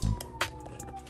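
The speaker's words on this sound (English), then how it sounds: "Excuse the sirens going on" A siren wails outside, steady and moderately distant, with a brief low thump at the start.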